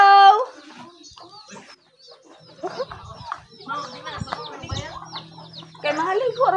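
Chickens cluck and squawk nearby in short irregular bursts, mixed with brief chatter and background voices.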